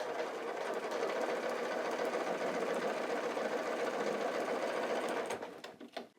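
A sewing machine stitches two seam lines on half-square triangle quilt pieces, a steady close whirring run for about five seconds that slows and stops, with no talking.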